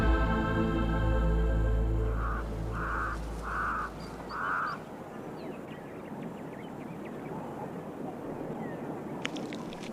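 Crows caw in the wild: a run of four harsh calls in steady rhythm, moderately close, over wind noise and a heavy low rumble, then fainter calls follow.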